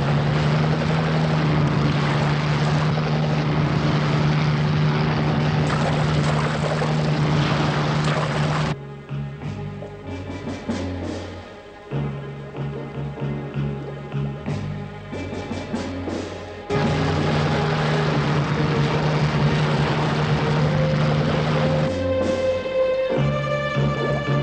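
A helicopter flies over offshore oil rigs in a 1968 Euro-spy film, its continuous rotor and engine drone loud throughout and briefly thinning midway before returning strong.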